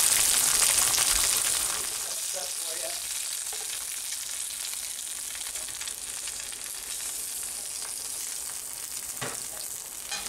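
A single egg frying in a pan gives off a steady, close sizzle that holds evenly throughout, louder in the first couple of seconds and then settling, with no talking.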